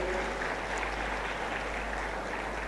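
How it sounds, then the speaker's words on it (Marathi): An audience at a Bharati Vidyapeeth foundation day event claps to welcome foreign professors, a continuous wash of applause holding steady throughout at moderate loudness. "त्यांचं स्वागत आपण सर्वांनी टाळ्या वाजून करावं असं मी त्या ठिकाणी विनंती करतो"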